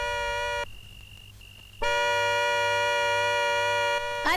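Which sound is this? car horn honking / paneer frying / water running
car horn honking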